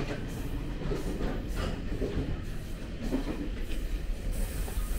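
A TRA Tze-chiang Ltd. Express train runs on the rails, giving a steady rumbling roll with rhythmic clickety-clack of wheels over joints and faint wheel squeal, close and continuous for the whole stretch.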